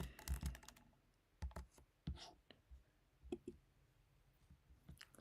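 Keys clatter on a computer keyboard in short bursts of close, quiet clicks with pauses between, fairly faint and uneven in rhythm.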